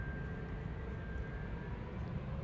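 Steady, faint broadband roar of a Delta airliner taking off at Amsterdam Schiphol Airport, heard from a distance as a continuous low rumble with a faint whine.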